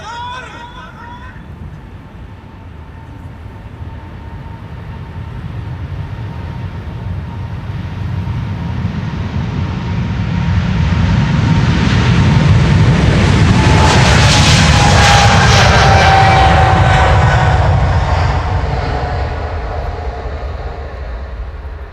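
A KLM long-haul jet bound for Lima takes off from Schiphol's Polderbaan runway, its engine roar building from a distant rumble to a loud, close peak with a whining tone, then easing slightly as it climbs.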